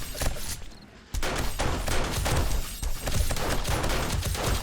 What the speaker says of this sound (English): You go through ammo very fast with that M60.